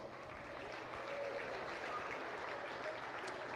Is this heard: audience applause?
yes